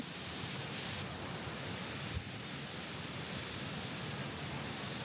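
A waterfall in New Zealand pours in a steady, loud, close roar of falling and splashing water, broadband and unbroken, with no voices.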